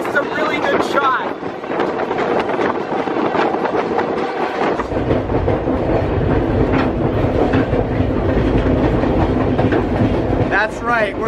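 A passenger train rolls along the rails at about 47 miles an hour, recorded from on board. A loud continuous rumble and rattle carries through the whole stretch, and the sound deepens and thickens partway through. Voices are faintly present under the din.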